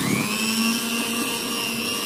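An electric hand mixer beats pandan sponge cake batter at medium speed after milk powder is added, a steady, close whirring motor hum that holds one pitch throughout with no talking.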